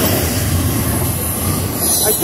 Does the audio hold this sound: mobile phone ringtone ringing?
no